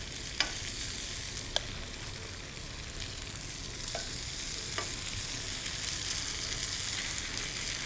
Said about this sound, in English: Just scoop some of the mixture down into the hot pan.